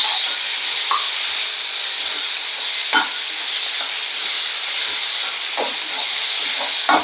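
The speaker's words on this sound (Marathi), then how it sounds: "आणि लसूण चांगला फ्राय होतोय आपला" Garlic frying in a pan, a loud continuous hiss of sizzling oil close by, with occasional light stirring clicks over the steady frying.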